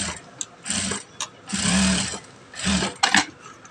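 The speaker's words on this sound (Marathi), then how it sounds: "अशा प्रकारे गोट मारून घेतल्यानंतर तो एकदम फिनिशिंग मध्ये दिसेल." An electric sewing machine stitches the edge of a small doll-sized dress in loud, whirring bursts of rapid needle chatter, starting and stopping several times with brief pauses between runs.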